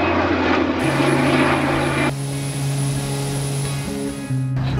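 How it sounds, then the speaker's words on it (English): An airplane's engines drone loudly and steadily in flight, a dense continuous roar with sustained humming tones that shift slightly in pitch. "We're on the plane"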